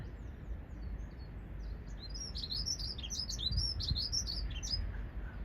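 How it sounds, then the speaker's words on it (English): A dunnock sings loudly and close at Wheelers Bay, Ventnor, bright rapid warbling phrases repeating through the second half over steady low wind and ambient rumble, no talking. "Loud Dunnock."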